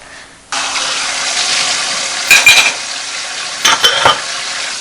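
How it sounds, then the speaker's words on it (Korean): A young girl washes dishes at a Buddhist temple, Ssanggyesa in Hadong: water suddenly starts to run and keeps up a steady rush, with a few clinks and clatters of dishes partway through. "설거지도 척척입니다"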